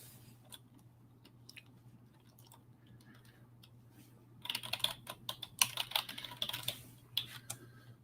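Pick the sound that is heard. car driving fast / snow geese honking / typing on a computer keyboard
typing on a computer keyboard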